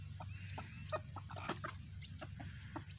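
Hens clucking at a village home where poultry are raised, several short clucks and calls scattered across the clip over a steady low background hum, fairly close and alone with no talk.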